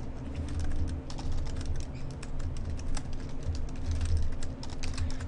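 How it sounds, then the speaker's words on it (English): Steady rapid typing on a computer keyboard, dense overlapping key clicks at close range over a low background hum, with no voices. "Typing is not up to scratch today."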